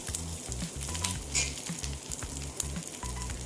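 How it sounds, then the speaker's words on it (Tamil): Curry leaves sauté in a pan for a chutney, making a steady close sizzle and crackle, with light scraping from stirring throughout. "இந்த அளவுக்கு அந்த கருவேப்பிலையோட பச்சை ஸ்மெல்லாம் போகிற வரை வதக்கி விட்டுக்கணும்"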